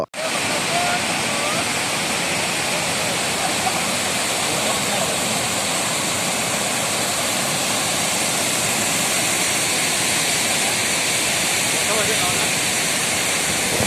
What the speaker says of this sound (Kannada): ಬೆಳಗಾವಿ ಜಿಲ್ಲೆಯ ಸುಂದರ ಪ್ರವಾಸಿ ತಾಣವಾದ ಗೊಡಚಿನಮಲ್ಕಿ ಜಲಪಾತ